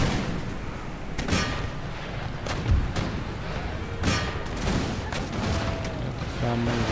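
Repeated booming cannon shots in Empire: Total War, sharp bursts scattered every second or two over a dense background rumble.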